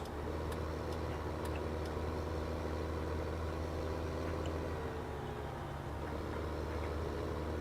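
A tractor engine in Farming Simulator 17 hums as a steady, close, low drone while the machine drives toward a woodyard with its lights on. The tone is even throughout, with faint ticks and no talking.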